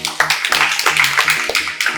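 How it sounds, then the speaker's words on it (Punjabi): An audience at a Punjabi school show at Orane International, Bathinda, claps in a brisk, steady rhythm of sharp taps, mixed with music and some voices. "ਸੋ ਤਾੜੀਆਂ ਲਾਓ ਯਾਰ ਇੱਕ ਵਾਰੀ"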